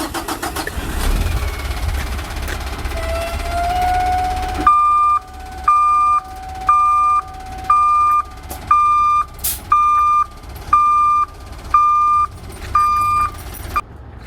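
A semi truck idles and rolls backward while its backup alarm beeps loudly in a steady series of about ten evenly spaced tones, with engine rumble underneath and no talking.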